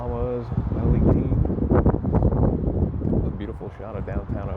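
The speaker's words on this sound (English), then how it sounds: "It's a little windy, not as bad as yesterday" Wind gusts buffet the microphone outdoors in El Paso, Texas, a loud, rumbling rush that keeps going while someone talks over it.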